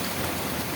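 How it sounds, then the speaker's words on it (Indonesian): Rain begins falling outdoors, a steady close hiss of drops spread evenly with no other sounds over it. "berhubung sekarang sudah mulai turun hujan"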